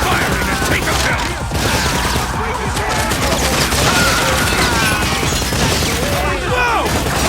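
Dense, unbroken machine-gun fire in the Time Crisis light-gun arcade game, loud and continuous, mixed with game effects and shouted voices of characters.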